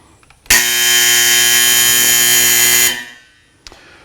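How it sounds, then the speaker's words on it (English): A shooting range buzzer signals a change of range state with one loud, steady, harsh electronic blare lasting over two seconds, then cuts off into near silence. "When we want to change from one state of range to another, the buzzer will go off."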